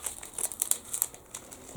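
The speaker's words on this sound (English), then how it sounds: "I've got a pair of scissors, I have. Let's chop off the seasoning," Scissors snip through a plastic seasoning packet from a chicken noodle bowl, producing a quick series of close crinkles and crisp plastic rustles, alone and fairly quiet.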